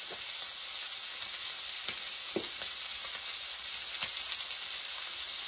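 Catfish fries in a pan with a steady, bright sizzle and occasional soft pops, continuous and fairly close with no voices.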